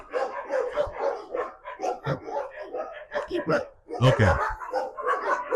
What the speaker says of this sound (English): Every house has a dog.